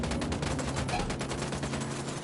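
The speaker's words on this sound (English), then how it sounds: "Opening fire on these fuckers." Rapid automatic gunfire in the tactical shooter Ghost Recon, a dense unbroken stream of close, loud shots during a firefight.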